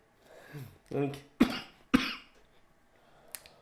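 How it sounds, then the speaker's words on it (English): Two sharp, close coughs in quick succession, with a throat-clearing and a faint third cough after a pause, between low murmured talk. "I may be coughing a little bit."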